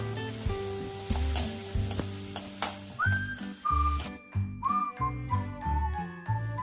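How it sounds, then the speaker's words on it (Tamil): Chopped medium onion hitting hot groundnut oil with popped cumin, loud bursts of sizzling and frying crackle that surge and fade with stirring, alongside intermittent whistling tones from a pressure cooker. "சீரகம் நல்லா பொரிஞ்ச உடனே பொடி பொடியாக கட் பண்ணி வச்சுருக்க ஒரு மீடியம் சைஸ் வெங்காயத்தை ஆட் பண்ணிக்கிறேன்"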